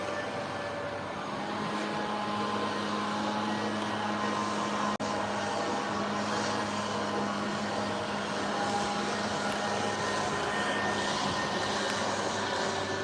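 Steady outdoor engine drone of a leaf blower running continuously at moderate distance, a constant whooshing roar with no pauses and no talking.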